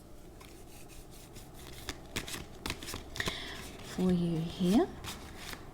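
Oracle cards being shuffled: a run of quick, papery flicks and taps repeating at an uneven pace, close by, with someone speaking briefly over the later part.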